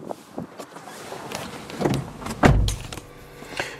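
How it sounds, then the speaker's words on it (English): Electric window motors on a Toyota RAV4 2.5 hybrid SUV whir up and down in short bursts inside the cabin, with a louder thunk-like stop near the end; no talking. "four electric windows"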